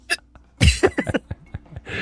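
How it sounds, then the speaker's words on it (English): A person hiccups in a quick irregular series of short, sharp catches, close and fairly quiet, with a few breathy bursts between them. "I just had the hiccups."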